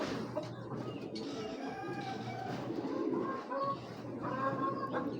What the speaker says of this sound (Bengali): একটা মেন বিডের কবুতর দেখাই